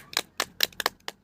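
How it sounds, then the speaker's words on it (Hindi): A short patter of hand clapping from an audience at a gathering, a few sparse claps spread over about a second, close and fairly quiet. "तो इनके लिए भी एक बार जोरदार तालियां हो जाए।"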